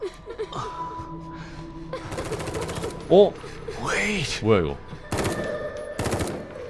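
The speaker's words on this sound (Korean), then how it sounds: "밖에 총소리 뭐야?" Rapid bursts of machine-gun fire crackle outside during play of the horror video game The Evil Within 2. The volleys come in short loud clusters, while someone talks and gasps in reaction over them.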